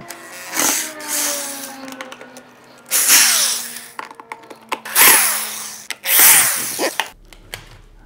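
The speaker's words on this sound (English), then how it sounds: "Get these screws out." A power drill backs screws out of a mold case for roto casting, firing in several short whirring bursts separated by pauses, with clicks and handling noises between them, loud and close with no talk.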